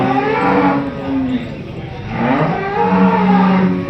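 A cow at the Chakan cattle market moos twice in long, low, drawn-out calls, the second rising and holding steady, fairly close and loud.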